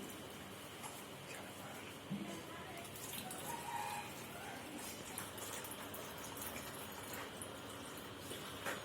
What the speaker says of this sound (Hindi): अभी टंकी में पानी भर रहा है